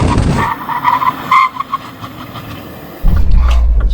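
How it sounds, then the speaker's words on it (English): A Mini John Cooper Works brakes hard from 60 mph, a loud rushing burst that drops off into a quieter stretch before a heavy low road rumble returns near the end. "Brake test from 60 miles an hour, looking for around 35 metres."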